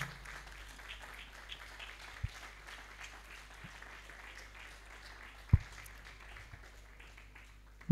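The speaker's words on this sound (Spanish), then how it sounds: "Denle un fuerte aplauso al Señor" A church congregation claps in a soft, scattered round of applause, heard faintly and at a distance under a low room hum, with a few sharper thumps and knocks breaking through.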